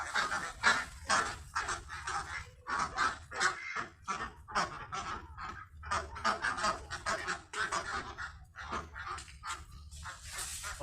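A noisy flock of farmed laying ducks quacking continuously, many overlapping calls close by with no pauses.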